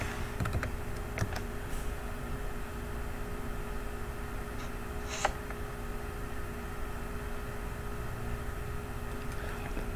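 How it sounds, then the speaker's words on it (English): Typing on a computer keyboard, with scattered clicks of keys over a steady low hum and faint background noise, quiet and close, a short flurry near the start and a sharper click around the middle. "let's go to Isaiah, and let's type in 11"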